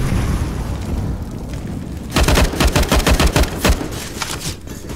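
Quiet rumble at first, then a loud rapid burst of gunfire in the video game CS:GO, with many sharp shots in quick succession, fading near the end.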